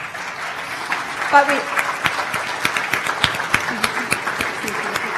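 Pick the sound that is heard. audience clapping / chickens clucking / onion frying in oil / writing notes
audience clapping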